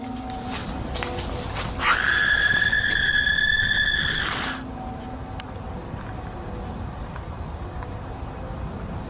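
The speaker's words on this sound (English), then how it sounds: "Some people claim that the scream is fake and edited in." A shrill, sustained scream rings out for about two seconds along a bleak tree-lined path outdoors, loud over faint background hiss, then cuts off abruptly, leaving quiet ambient noise and a few small clicks.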